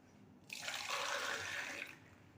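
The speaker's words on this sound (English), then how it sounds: "I'm going to put small amount of water" Water pours in a short steady stream into a pot of kunde (cowpeas), starting abruptly and lasting about a second and a half before stopping.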